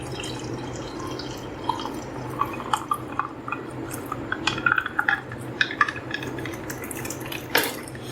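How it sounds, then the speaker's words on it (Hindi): Sattu sharbat is poured into a glass over ice cubes, giving light clinks, drips and splashes of liquid against a steady low background, close and fairly quiet. "सत्तू का शरबत डाल दूंगी।"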